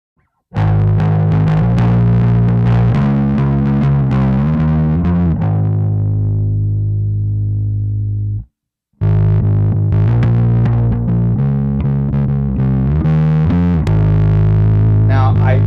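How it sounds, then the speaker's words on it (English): Bass played through an EarthQuaker Devices Chelsea fuzz pedal with a gritty, overdriven tone, notes sustaining then fading, a brief pause, then more driven playing. "Chelsea does a really good job of that dialed down fuzz tone, almost overdrive-ish"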